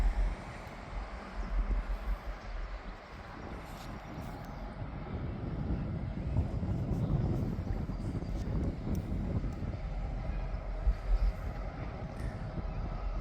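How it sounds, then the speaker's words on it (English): A train draws near through open countryside around Deloraine, Tasmania, a steady low rumble building slowly over several seconds, mixed with wind buffeting the microphone, with no talking. "we've got our train coming"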